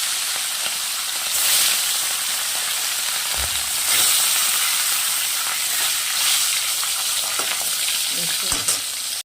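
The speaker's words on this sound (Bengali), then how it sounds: "তেল গরম হয়ে আসছে আরও কিছু মাছ রয়েছে সেগুলোকে ছেড়ে দিই" Rohu fish pieces fry in hot oil, giving a loud, continuous sizzle and crackle that swells and pops at moments throughout, with no talking.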